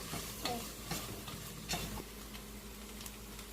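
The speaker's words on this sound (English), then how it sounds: "Let the masala cook for 5 minutes now." Spiced masala cooking in a kadhai for vegetable biryani, with a soft constant sizzle and a few scraping stirs of a spoon against the pan. It is faint and steady throughout.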